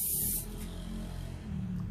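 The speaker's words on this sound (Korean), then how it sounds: "그리고 스프레이 마무리 꼭 하셔야 되고요." Hairspray is sprayed from an aerosol can to finish an updo hairstyle, a brief loud steady hiss at the start that fades, followed by quiet room tone.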